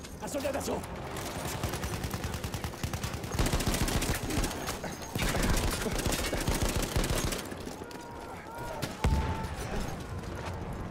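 Battlefield 1 combat at Fort De Vaux with rapid, repeated gunfire, shotgun blasts among them, crackling over a dense battle din, while a player talks over the action now and then.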